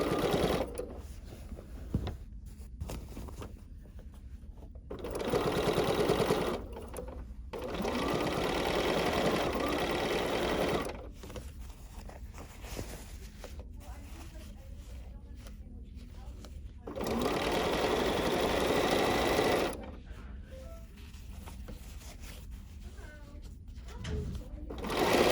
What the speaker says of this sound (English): So I'm just turning this over and carefully stitching.